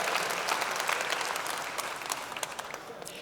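Audience applause at a Terraform technical conference talk, a soft, even wash of many hands clapping in a large room, fairly distant and fading slightly toward the end.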